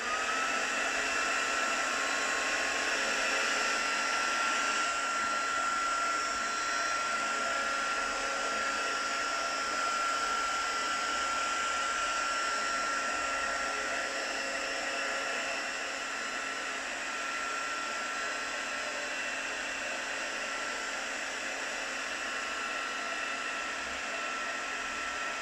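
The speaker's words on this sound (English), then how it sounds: "Again, I'm just going to zap that with a heat tool." Heat tool drying chalk paint on a mixed media tag background, a steady loud blowing whir that runs continuously and alone, easing slightly toward the end.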